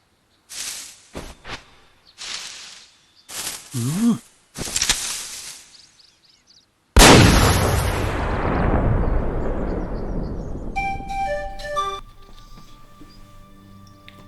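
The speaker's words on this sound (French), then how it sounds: "Le coup de feu devait venir de" Several sharp bursts and hisses give way to a loud booming gunshot that rings out and decays, followed by electronic game tones, in Kingdom Hearts.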